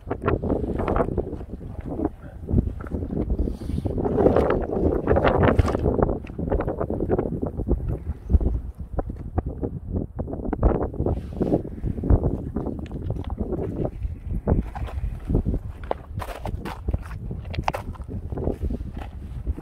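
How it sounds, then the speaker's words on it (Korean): Wind gusting across open winter rice fields, a steady rough rumble with buffeting against the microphone that lasts throughout without any talk. "바람이 불었어요."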